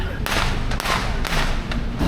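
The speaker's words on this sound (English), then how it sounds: "There's some kids setting off some fireworks." Fireworks set off by kids on a street in Bali pop in a series of sharp, sudden bangs, roughly four evenly spaced cracks over a busy background hum.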